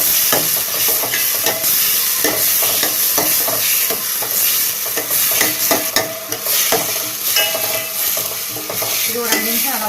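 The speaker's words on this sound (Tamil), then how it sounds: "அடுத்து கட் பண்ணி வச்சிருக்க தக்காளியை போட்டு வதக்கலாம்." Chopped tomatoes sautéing in a pan for a cauliflower and capsicum gravy, with a loud continuous sizzle and hiss and busy, rhythmic stirring and scraping close by.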